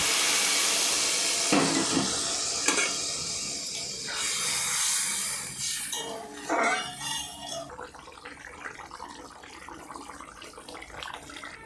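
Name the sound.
water added to frying egg and potato curry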